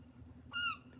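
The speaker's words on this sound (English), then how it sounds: "Strange place for a seagull to be." A single seagull cries once, a short harmonic squawk at moderate distance over a low engine drone on a Norfolk Broads canal boat trip near Dilham.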